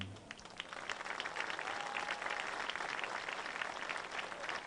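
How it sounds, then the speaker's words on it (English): Football crowd applauding military and first-responder honorees at a varsity game, a broad, fairly distant wash of clapping and cheering, steady throughout with a brief whistle-like tone midway. "Fans, another round of applause for all of our honorees from our military and first responders."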